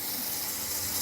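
A kitty spout water dish fountain runs with a steady, close trickle and gush of flowing water, heard on its own for a brief moment.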